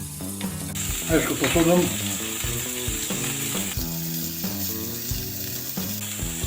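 Eggplant and zucchini slices frying in a pan with olive oil, giving a steady sizzle beneath a voice talking, with occasional clinks of utensils.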